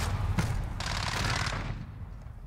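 Rapid automatic gunfire from a Modern Warfare Search and Destroy match, a dense loud burst of shots lasting about a second and a half before fading out.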